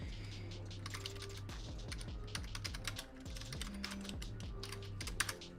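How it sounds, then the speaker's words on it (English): Computer keyboard typing in quick irregular bursts of clicking keys, close and fairly loud, with a short pause midway and no talking. "Let's see if we can type a little bit."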